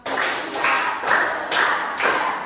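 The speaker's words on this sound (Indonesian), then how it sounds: "Tepuk 1, tepuk 2, tepuk 3, tepuk 4, tepuk 5." Group clapping chant led in a morning classroom session, five loud bursts of massed hand claps in an even counted rhythm, close and clear with no voices over them.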